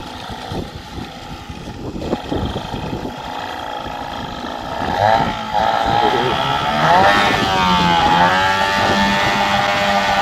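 A fishing boat engine at sea hums steadily close by, its pitch rising and shifting as it speeds up, with wind and water noise around it.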